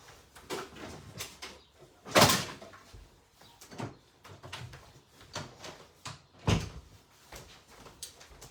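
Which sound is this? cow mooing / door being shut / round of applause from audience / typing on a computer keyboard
door being shut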